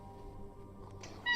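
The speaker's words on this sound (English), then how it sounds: "Oh, that's a kitty cat." A cat character in a roleplay video game gives a short meow near the end, rising briefly over a low, steady background hum.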